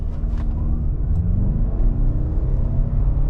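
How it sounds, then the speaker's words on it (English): A 2024 Toyota Camry Hybrid with a four-cylinder engine accelerating hard in sport mode from a standstill, a loud steady engine drone and road rumble heard from inside the cabin. "0 to 60 in the Camry, sport mode on,"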